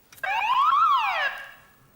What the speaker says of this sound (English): Fingers on the buzzers.